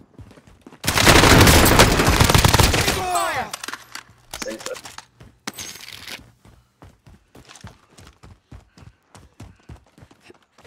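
Gunfire in a shooter video game: a dense burst of rapid shots, then scattered single shots and crisp clicks with footstep-like taps, while a player talks.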